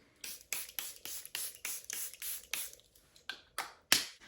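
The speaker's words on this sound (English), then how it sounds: "I always go in with a setting spray after I have put all of my cream products on" Charlotte Tilbury makeup setting spray misted in about ten quick, close hissing bursts with short gaps between them, loud and alone with no talking.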